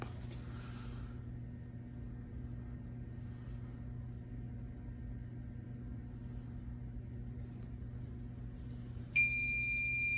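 A steady low electrical hum continues, then near the end a high-pitched alarm tone from a Sentry 5 line isolation monitor suddenly begins and sounds continuously.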